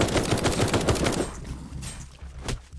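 A flamethrower turret fires in the video game Night of the Dead as a dense, rapid burst of harsh crackling shots. It starts loud and close, then thins into scattered bursts.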